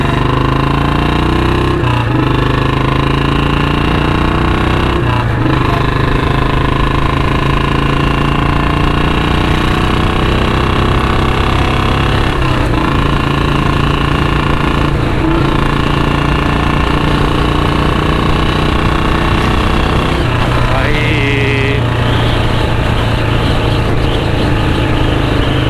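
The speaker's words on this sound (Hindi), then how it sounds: "देख रहे हो ना क्या चीख रही है बाइक" A BS6 Royal Enfield Standard 350 with a C-bend long Punjab exhaust accelerates hard and continuously, loud and close, its engine drone climbing in pitch through each gear and dropping at every shift, with about five shifts and no talk.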